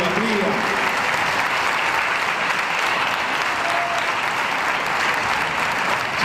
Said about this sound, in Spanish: el aplauso para que Darío se lleve el regalo